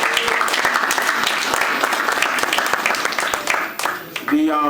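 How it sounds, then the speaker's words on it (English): Sustained applause from a crowd at an awards ceremony for veterans, dense clapping filling the room with talk over it, then thinning out near the end. "a run of applause for family and friends for all your support"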